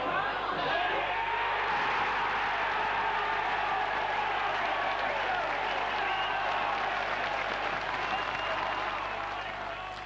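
A football crowd of about 4,500 cheers and applauds a goal at a lower-league match, a steady roaring wash of clapping and voices that swells evenly throughout and tails off slightly at the end.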